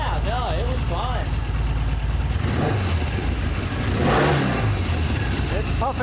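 A Norton motorcycle engine runs steadily after a kick start, a loud continuous mid-pitched drone with a brief rev swell near the end, while people talk over it.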